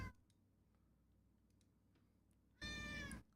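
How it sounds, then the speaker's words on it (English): A single clear cat meow, close and fairly loud, follows a few seconds of quiet room tone with faint ticking. "if you hear that, that's our cat Luigi"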